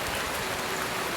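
Steady rain falling and dripping outdoors, a dense continuous patter of drops that fills the short stretch close by with no voices.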